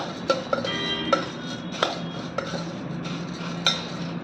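A spoon stirs steamed moth beans (matki) for bhel in a metal bowl, giving a series of irregular bright clinks and scrapes, close and alone.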